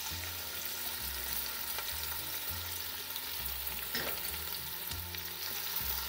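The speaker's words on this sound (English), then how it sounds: "as soon as the oil gets hot, we put all the onions in there." Onions fry in hot oil in a big pot on full flame for an Anglo-Indian lamb stew, giving a steady, even sizzle that runs unbroken, with no voices and a low hum beneath.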